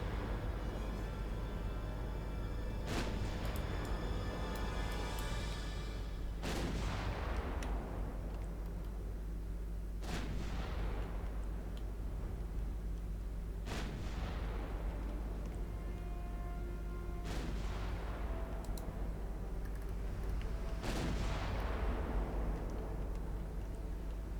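Naval guns fire AP shells in the warship game Ultimate Admiral Dreadnoughts, making about six heavy booms spaced several seconds apart over a steady low drone, each one fading out in a long rumble.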